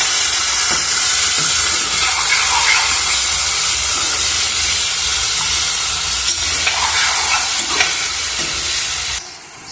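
Cut tomato pieces fry in a pan with loud, steady sizzling and hissing while being mixed, stirring scrapes throughout, no talk, and the sound drops away abruptly at the end.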